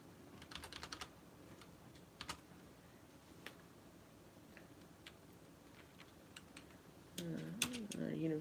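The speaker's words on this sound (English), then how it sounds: "I have the typing skills of Mittens the cat." Scattered keyboard key clicks tap unevenly at close range, sparse and hesitant, before a voice begins speaking near the end.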